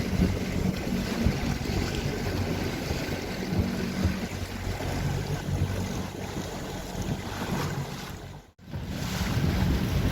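A sailboat at sea off Dieppe during a regatta, with steady wind buffeting the microphone over hull and wave wash, loud and continuous with one brief dropout near the end and no talking.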